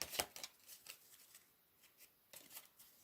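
Soft riffling and flicking of a Lenormand card deck being shuffled, several brisk bursts with pauses between, close and quiet with no speech.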